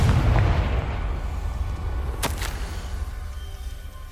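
A Confringo fire spell explodes in Hogwarts Legacy: a loud, deep boom at the start that fades into a low rumble, with a sharp crackle midway and no talking.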